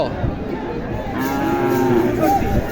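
A Sahiwal cow at an open-air cattle market in Dhamoirhat, Naogaon, gives a drawn-out, fairly close moo that swells in the second half over a steady background murmur of the market.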